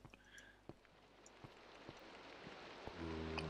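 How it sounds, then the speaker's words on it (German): Steady patter of rain in the Minecraft video game, a soft continuous wash broken by scattered louder drops, with a tonal in-game sound swelling near the end; no talking. "Und es regnet noch immer."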